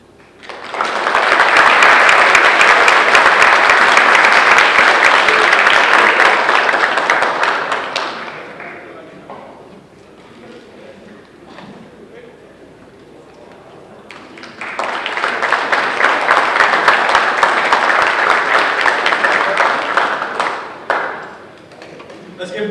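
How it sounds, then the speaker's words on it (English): A crowd at a construction signing day claps for Joe and Roswell Drywall in two loud, dense bursts of applause separated by a quieter stretch of murmur and room noise. "Let's give Joe and Drywall and Roswell Drywall a big round of applause."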